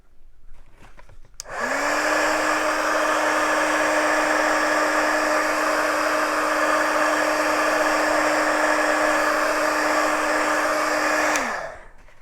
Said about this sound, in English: I'm going to hit my heat tool again to it so that I can get it to dry really quick